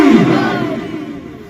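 A congregation at an Islamic religious gathering roars a loud, single massed chant in response to a call, a dense crowd shout that decays quickly into reverberation.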